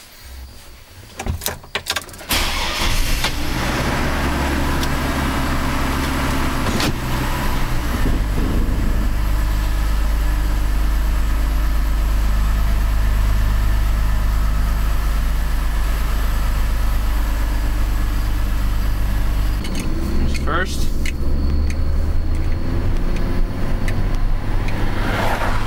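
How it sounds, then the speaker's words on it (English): A Chevrolet Trailblazer fires up with a brief cranking burst, then settles into a steady, loud idle and engine drone as it is driven out of a garage, with a rev change near the end. "I'm going to go ahead and pull this thing out of the garage and take it for a quick drive."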